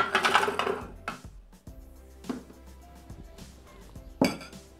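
Frozen coffee drops into a Thermomix jug with a few sharp clinks and rattles, separated by short quiet gaps, close and fairly loud.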